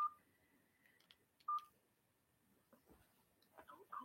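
Telephone keypad tones dial a number, a couple of clear beeps standing out alone before a quieter patter of button presses and faint handling noise.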